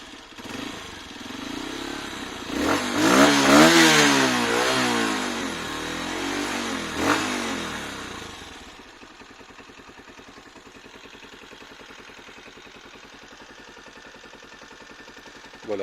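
A Honda XR 125 motorcycle engine with stock exhaust revs up several times with rising and falling whines, then settles into a lower steady idle that putters on alone.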